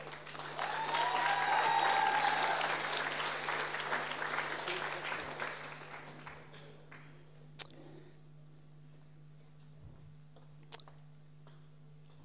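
Applause at a university bachelor's diploma ceremony, a hall crowd clapping for a few seconds before it fades into quiet room tone with a steady hum and a couple of sharp knocks.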